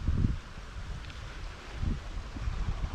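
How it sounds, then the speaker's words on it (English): Gusty wind buffets the microphone beside a creek during fishing, coming in low rumbling bursts near the start and again toward the end, with steady rustling in between and no talking. "The wind keeps taking it."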